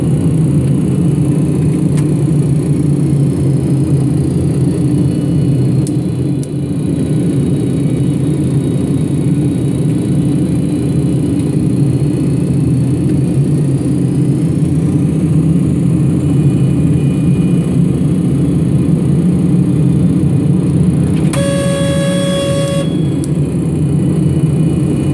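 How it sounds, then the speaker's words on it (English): Simulated Pratt & Whitney JT8D turbofan engines of a DC-9 in a flight simulator give a steady, loud low rumble with a faint high whine, broken near the end by a brief tonal chime. "that's the sound of the engines."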